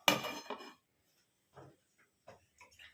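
Lid set onto a cooking pot of soybean curry after adding ghee, a clattering metallic clank up front followed by a few faint small knocks and taps in a quiet kitchen.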